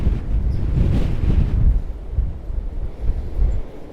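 Strong storm wind roars across an allotment, buffeting the microphone in heavy low gusts that swell and ease over a few seconds, loud and close with no voices.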